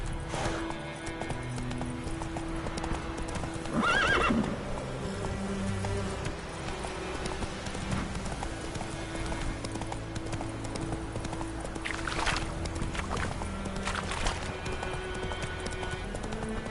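Roach, the horse from The Witcher 3, gallops with a continuous, even drumming of hooves that stays near and prominent, with a couple of brief louder bursts and no talking.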